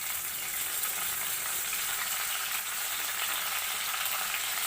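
Leaves drop into about two teaspoons of hot coconut oil in a pan while making coconut pickle, giving a continuous, crackly sizzle that is fairly quiet and close, with no talking.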